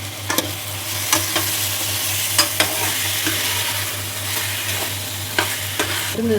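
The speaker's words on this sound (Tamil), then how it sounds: "கேரட்டு, பீன்ஸு, உருளைக்கிழங்கு இந்த மாதிரி சேர்த்துட்டு நல்லா விறகி விட்டுறலாம்" Carrots, beans and potatoes sizzle in a pan for a kuruma while a utensil stirs them, scraping in irregular strokes over a steady frying hiss; no one speaks.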